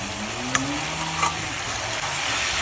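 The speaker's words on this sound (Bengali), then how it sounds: "আর মাছগুলো দিয়ে একটু কষাই নেব।" Snakehead (shol) fish pieces frying in oil with spice paste, a close, continuous sizzle broken by a few light clicks of a spatula, with no talking.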